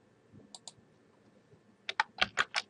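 Computer keyboard typing while entering data in Excel: two soft key clicks, a pause, then a quick burst of five close, crisp keystrokes, with no talk.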